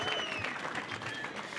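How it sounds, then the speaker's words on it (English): Crowd applause at the Corona Open J-Bay 2023 pro surfing contest finals day, a brief steady wash of outdoor clapping with some crowd murmur and a faint whistle-like tone over it. "Give yourself a round of applause"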